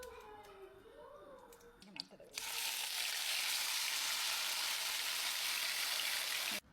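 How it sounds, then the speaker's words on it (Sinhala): Chicken frying in oil in a pan for biryani: after about two seconds of quieter sounds, a loud, steady, close sizzle starts abruptly and holds without a break to the end. "ඉතින් මේ විදිහට චිකන් එක කුක් කරගන්නවා විනාඩි 10ක් විතර."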